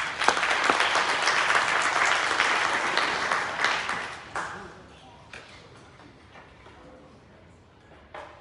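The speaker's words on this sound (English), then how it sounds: "Give yourselves a round of applause." Dense audience applause at a big band concert fills the first few seconds, then thins into scattered claps and a quieter hall.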